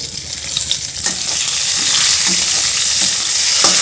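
Dried red chillies and bay leaves hit hot oil and sizzle loudly up close, a continuous bright crackling hiss that builds and holds steady, with a few soft stirring taps.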